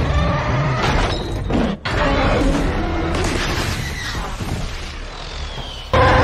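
Ships smashed apart by Godzilla in the Godzilla vs Kong film: a sustained loud roar of crashing, rumbling destruction with brief breaking bursts, partly under a narrating voice.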